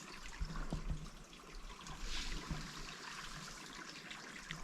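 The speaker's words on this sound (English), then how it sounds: "I'm so filling my water up here." Ice-cold wilderness stream water trickles and gurgles into a bottle being filled, a quiet steady liquid burble with a few soft knocks early on, close and faint with no talking.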